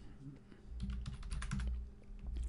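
A computer keyboard being typed on in a quick, soft run of key clicks over a low room hum, close and fairly quiet.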